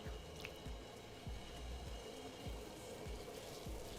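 Water bubbles and churns in a pot on high heat as two large pieces of beef hind shank go in for a Sonoran beef soup, with soft repeated plops and sloshing throughout.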